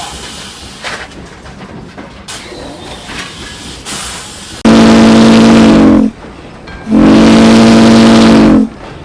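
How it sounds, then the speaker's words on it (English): Soft steam hissing and mechanical noise on the Northern Nevada Railroad, then two long, loud steam locomotive whistle blasts, each sustained over a second with a short gap between. "Blow the whistle at him"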